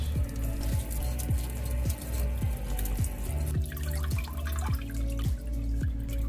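Enoki mushrooms are washed with water, with repeated drips and splashes falling into a sink in a steady rhythm against a continuous watery background.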